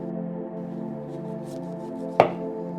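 Knife cutting straight down through a peeled jicama root onto a board, a single sharp thunk near the end of the clip over a steady background hum.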